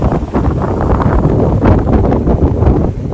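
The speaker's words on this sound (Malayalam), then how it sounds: "ഈ കാറ്റ് വീശുമ്പോൾ നമ്മളങ്ങോട്ട് എനർജറ്റിക് ആവുകയാണ്" Steady wind gusts across a hilltop at Palani, buffeting the microphone in a continuous loud rush with slight swells and dips throughout.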